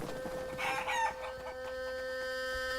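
Chickens cluck and a rooster crows in a short burst in Shenmue III, fairly faint, over a steady electronic hum.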